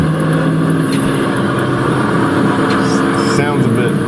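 An SSC Tuatara hypercar's engine roars at speed, its intake and exhaust producing a sustained, loud drone with slight rises in pitch, while someone talks over it.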